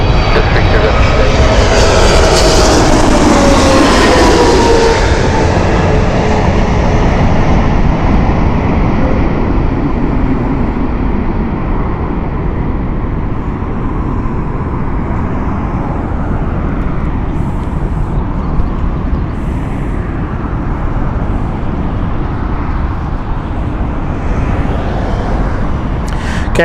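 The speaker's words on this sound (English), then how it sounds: "that was the 777-300 ER British Airways from LAX, Speedbird 28 Foxtrot" A British Airways Boeing 777-300ER arriving at Heathrow from LAX, its heavy jet roar loudest at the start and slowly fading while staying strong throughout, with speech over it.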